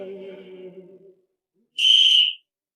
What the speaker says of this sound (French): Allez, siffle